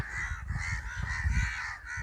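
Crows caw repeatedly and close by in a steady, overlapping run of harsh calls, with no talk over them.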